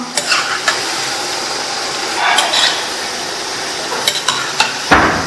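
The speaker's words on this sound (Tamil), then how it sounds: "கிறிஸ்பி ஆகிற வரைக்கும் இந்த மாதிரி பிரட்டி விடுங்க" Cabbage 65 frying in hot oil in a pan, a constant loud sizzle broken by several sharp scraping and clattering bursts as the pieces are tossed and stirred, with a heavier clank near the end.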